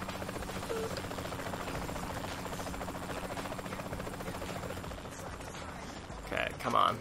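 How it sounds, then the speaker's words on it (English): A helicopter in the video game Saints Row: The Third gives a steady, buzzing rotor drone throughout, with a few brief louder bursts near the end. "we'll try that chopper again"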